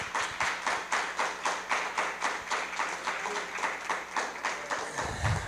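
Church congregation clapping hands in unison during a worship service, a steady rhythmic beat of about three claps per second that continues evenly until a brief pause near the end.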